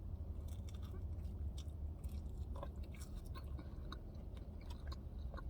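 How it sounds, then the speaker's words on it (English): Whataburger onion rings being bitten and chewed up close, with soft, slightly muted crunches and wet chewing over a low steady background and no talking. "I also got some onion rings. So let me go ahead and try that first"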